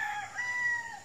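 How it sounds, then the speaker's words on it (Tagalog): A rooster crows on a farm, one drawn-out call that sounds close and clear with no voices over it. "tunay na naririnig mo yung huni ng iba't ibang klaseng ibon."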